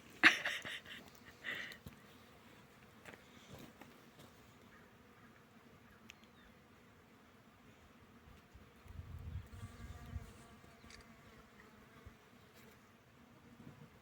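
Bees buzz faintly around a sunny cherry orchard in Oregon in April, with intermittent close flybys rising over a quiet outdoor background and a few soft knocks.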